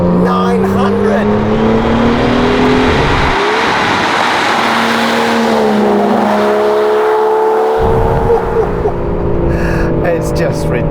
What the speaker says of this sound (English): V12 engine. It kicks out a whopping 725 horsepower.